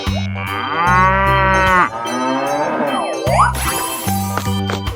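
Cartoonish cow moos in a 3D animal slide game sound loud and drawn-out, repeating over a bouncy backing tune with cowbell-like dings and jingles.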